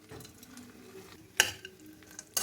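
Cashews, almonds and pistachios roasting in ghee over low-medium heat, a faint steady sizzle with soft scraping as they are stirred and a few sharp clinks of the spoon against the pan.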